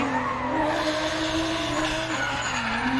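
Drift car in a rookie-class qualification run at an Indonesian drift series event, tires squealing and skidding continuously over a loud racing engine whine for several seconds.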